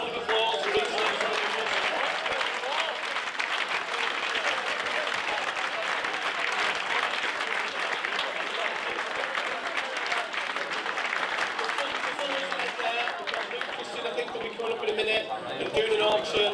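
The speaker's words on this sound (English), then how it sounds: "massive round of applause for each of them." Sustained audience applause at the Bury AFC end of season awards, a dense, loud crowd clapping that carries on steadily for over fifteen seconds with occasional voices mixed in.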